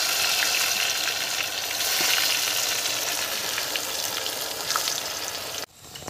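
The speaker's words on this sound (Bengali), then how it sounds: "এখন আলুগুলো ভেজে নেব।" Boiled potatoes fry in oil left over from frying onions, giving a steady, close sizzle with faint pops and stirring scrapes, then cutting off abruptly near the end, with no talking.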